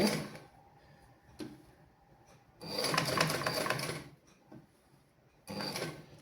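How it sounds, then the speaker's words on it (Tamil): A sewing machine stitches slowly around a curved section of fabric, running in short bursts of close, rapid mechanical clatter separated by near-silent pauses. "நாங்கள் இந்த வளைவு பகுதி தைக்க வேணும் மெதுவாக"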